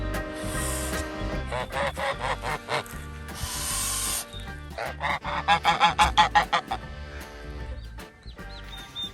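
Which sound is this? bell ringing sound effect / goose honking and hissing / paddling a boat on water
goose honking and hissing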